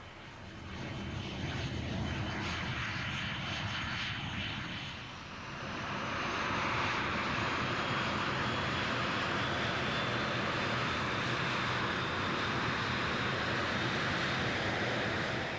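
A Gloster Meteor jet fighter engine roars continuously and loudly, dipping briefly before swelling into a broad, sustained whine and rush.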